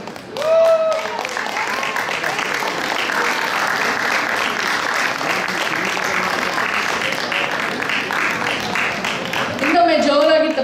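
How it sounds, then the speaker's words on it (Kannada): A crowd claps loudly and steadily at a Deepawali prize distribution as children's carrom winners receive trophies. The applause is dense and sustained, with brief speech at the start and end. "ಜೋರಾಗಿ ಚಪ್ಪಾಳೆ ತಟ್ಟಿ ಮಕ್ಕಳನ್ನ ಪ್ರೋತ್ಸಾಹಿಸಬೇಕು"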